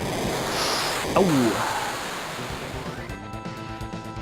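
A big wave attack in the video game Final Fantasy VII surges as a broad whooshing wash of surf-like noise, with a brief pitched swoop partway through and a short spoken exclamation over it.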